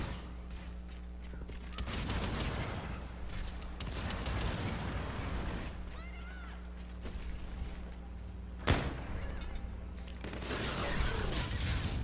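MacTav-45 rifle gunfire in a video game, bursts of shots over a steady game background hum, with one sharp loud crack standing out near the end.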